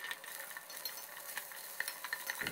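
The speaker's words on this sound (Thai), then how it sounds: "แล้วก็ให้เราคั่วเครื่องสมุนไพรให้แตกกลิ่นหอมเลยครับ" Sliced galangal, ginger, crushed coriander root and garlic stir-fry in hot oil for rice soup with a faint, steady sizzle and light scraping stirs, quiet and close with no talking.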